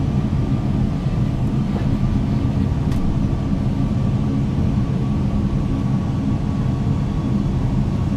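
A Boeing 737-800 on final approach with flaps 30 gives off a loud, steady, unbroken drone that holds at an even level throughout, with no talking.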